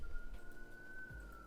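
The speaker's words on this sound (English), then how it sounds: "Oh, we got a siren going on outside" A police siren wails outside, heard faintly and from afar as a steady sustained tone, with low rumbling noise beneath it.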